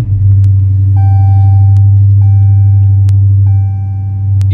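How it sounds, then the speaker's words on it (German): A 2018 Dodge Challenger R/T V8 engine starts and settles into a loud, steady, deep idle rumble close by, with a few faint high tones and clicks over it. No one speaks. "Ich zeige euch einfach mal, wie es sich anhört, wenn der Motor startet."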